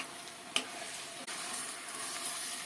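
Green beans sizzle in a pan while being stirred, a faint steady hiss with a couple of soft clicks from the spoon, close and alone without any talking.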